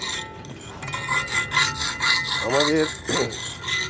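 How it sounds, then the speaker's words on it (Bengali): A damaged wooden round table top is rubbed down by hand, with repeated close, rhythmic scraping strokes and a brief voice partway through. "এখানের এই টেবিল টপটা খারাপ হয়ে গেছে, যতটা ওঠে ঘষে দিচ্ছি"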